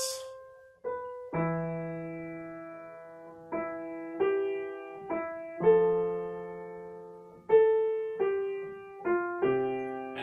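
A slow, gentle piano melody of a song plays, each note ringing out and fading over simple low bass notes.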